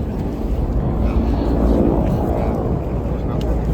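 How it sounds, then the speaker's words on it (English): Helicopter flying over Washington, D.C. during a state funeral procession at Capitol Hill, a steady loud rotor and engine rumble with wind noise and people talking. "I think that's the DC helicopter just flying."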